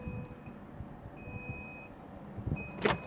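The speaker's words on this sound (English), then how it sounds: "Put the lift gate up just by pressing a button here, and it goes up." A Chevrolet Silverado 1500 High Country power lift gate opens with a few spaced, thin electronic beeps over a low motor hum and background noise, ending in a louder mechanical clunk.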